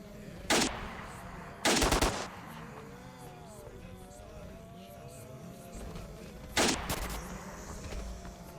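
Game gunfire from S.T.A.L.K.E.R. in an underground railroad area: three loud, short bursts of automatic fire, separated by quieter ambient game background.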